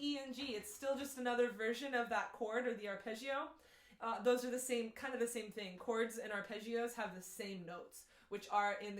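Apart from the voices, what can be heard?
No distinct noise like a dog, phone or traffic.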